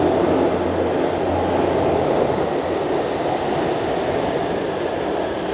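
A metro train pulls into a station platform at Tamanduateí, a loud, steady rumbling roar of wheels and carriages filling the whole stretch without pause.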